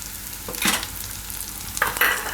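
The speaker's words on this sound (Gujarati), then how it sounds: "આ બધું મિક્સ કરી લઈશું." A spoon scrapes through a spiced mung dal mixture with coriander-cumin powder, red chili, Maggi masala and green coriander in a pan, giving two short close stirring strokes over a soft continuous sizzle.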